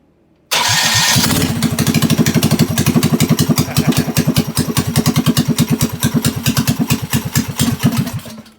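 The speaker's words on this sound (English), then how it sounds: "And guess I could probably start it up real quick." A minibike's small engine cold-starts with the choke still on, catching abruptly after a short silence, then runs loud and close with a rapid, slightly uneven chugging rhythm.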